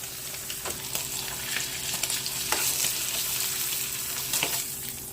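Pork shoulder searing in a pan, a steady close sizzle with several sharp scraping or tapping sounds from turning the meat, fairly quiet.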